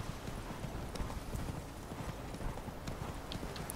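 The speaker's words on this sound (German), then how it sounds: "ich reite mal vor" In The Witcher 3 video game, a ridden horse's hooves clip-clop in a quick, steady rhythm, close by and fairly faint, with no voice over it.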